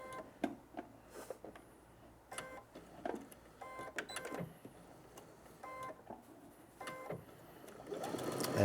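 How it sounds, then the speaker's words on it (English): A sewing machine stitches a Y-seam in quick short runs of rapid clicking, pausing between bursts as fabric is repositioned, quiet and close with no talking. "And now let's just sew right to the other dot."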